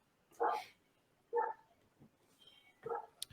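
A dog barks three separate times with short, sharp woofs spaced about a second apart. The barks sound fairly close but not loud, with near silence between them.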